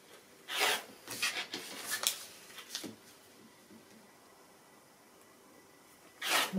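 Scissors or a rotary cutter trims a foundation-pieced quilt block along the dotted line, making several close, quick rasping cuts in a burst, then a quiet pause before one more cut at the end.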